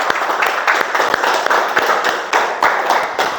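A class claps together after a movement activity in a teaching practice lesson, a dense, lively patter of many hands with irregular sharp taps, fairly loud and steady throughout.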